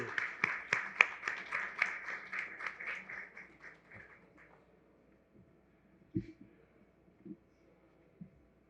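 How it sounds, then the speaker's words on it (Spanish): An audience applauds at a book fair event, a dense burst of clapping that fades out over about four seconds, followed by a few isolated thumps and handling knocks in near silence. "ya llegó nuestra querida Silvia Lemus, vamos a darle un abrazo, un aplauso."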